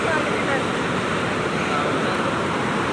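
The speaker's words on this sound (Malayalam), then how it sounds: "ഇത് കണ്ടോ വെള്ളച്ചാട്ടം?" Huka Falls in New Zealand roars as a constant, broad rush of water, loud and steady, with a hint of wind on the microphone.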